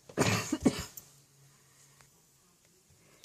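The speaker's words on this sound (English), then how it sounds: "I had to pause and have a little coughing fit." A short coughing fit: a few harsh, close coughs bunched in the first second, followed by near silence with faint room noise.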